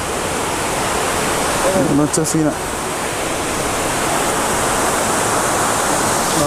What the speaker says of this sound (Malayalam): ഇവിടെ താഴോട്ട് അതിന് അടിപൊളി വെള്ളച്ചാട്ടമുണ്ട്